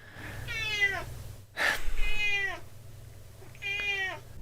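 Three drawn-out cat meows come at a steady pace from fairly close by over a low indoor hum, with a brief rustle or thump between the first two calls.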